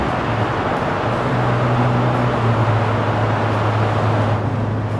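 Nissan Stagea 25GR Four wagon with an RB25 straight-six, cabin sound while driving: a loud, steady low engine drone with road and wind rumble, no talking.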